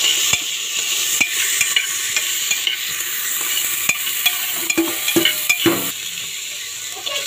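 Onions and spices sauté in a pan for yellow rice made with white ration-shop rice, a steady bright sizzle broken by sharp scraping and stirring clicks of a utensil against the pan, close and continuous with no talking.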